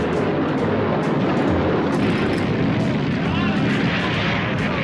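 A film-set accident where an airplane veers into the set, smashing through it and exploding, heard as a continuous loud roar of engine and blast rumble with crackling debris, sustained throughout.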